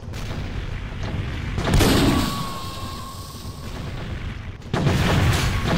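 Bomb blasts in a team deathmatch video game: two deep booming explosions, one near the two-second mark and another near the end, with a thin whistling tone drifting between them.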